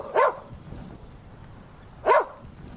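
A dog on private property barks twice, each a sharp single woof about two seconds apart, fairly close and clear against a quiet background.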